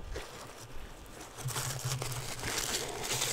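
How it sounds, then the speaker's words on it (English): Tissue paper is crinkled and rustled close up during a quiet ASMR haul unboxing, with soft irregular bursts of crackling. "tissue paper makes a nice crinkled sound."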